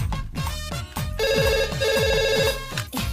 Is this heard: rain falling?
no